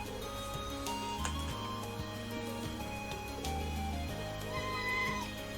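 A cat meows in the video game Trails of Cold Steel, with short tonal calls over steady game music and ticking effects, fairly clear throughout.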